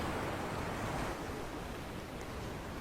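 Steady ocean surf at night in a Roblox pirate game on turbulent seas, a continuous broadband wash of rolling waves with wind-like hiss, loud and unbroken with no talk.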